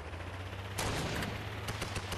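Rapid gunfire in the Fortnite video game, a burst of shots starting partway in over a steady low hum, fairly loud and without talk.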